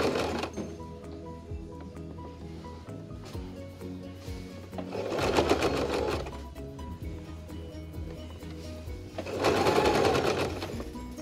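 A sewing machine stitches the seams of a cloth face mask, running steadily up close with two louder bursts of fast stitching, and there is no talking.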